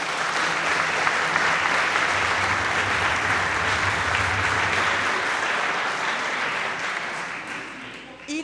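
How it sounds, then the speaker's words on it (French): Loud, sustained applause from a large audience honoring prayer groups from the Alpes-Maritimes at a religious gathering, continuous and dense before tapering slightly at the end. "et puis on veut vous applaudir"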